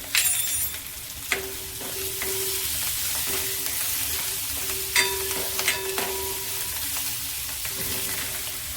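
Cumin seeds, half a spoonful, roasting in a hot pan with a steady crackling sizzle, broken by a few sharp pops and occasional stirring scrapes, close and fairly loud with no talking.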